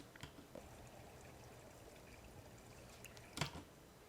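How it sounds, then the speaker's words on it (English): Water from a nearby fountain splashes and trickles as faint continuous ambient noise, with a few brief sharper splashes or clicks. "Currently, I'm right next to a fountain, which is giving a lot of ambient noise."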